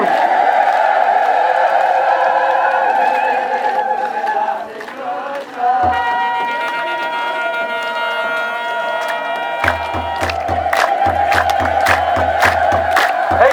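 A congregation ululates at an Ethiopian Orthodox Tewahedo church celebration at Debre Medhanit Medhane Alem: loud, sustained, high trilling voices over a crowd din, with deep drumbeats joining partway through and pounding in a steady rhythm to the end.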